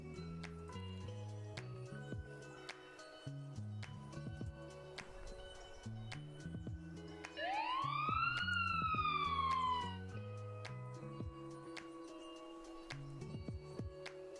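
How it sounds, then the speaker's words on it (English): A single siren whoop sweeps up and falls away once midway, loud and brief, over a steady backdrop of ticking clicks and low tonal sounds. "Was that siren really loud?"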